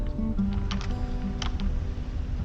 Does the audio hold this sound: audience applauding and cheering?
no